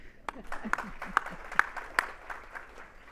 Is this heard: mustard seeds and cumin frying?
no